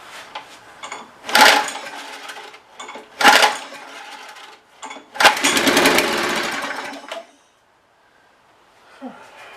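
A Briggs and Stratton flathead engine on a DR brush mower revs up at full throttle in loud, close bursts, then holds a sustained roar for a couple of seconds before cutting off.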